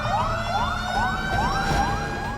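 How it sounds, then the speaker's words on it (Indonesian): A fire engine siren from a Jakarta fire department convoy heading to a fire sounds loud and close, repeating rapid rising yelps with a rumbling engine underneath. "Saat menuju lokasi kebakaran, rombongan mobil pemadam kebakaran berjalan berurutan dengan mobil komando berada di posisi paling depan"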